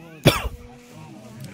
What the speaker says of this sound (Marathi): थोडा खोकला पण यायला लागला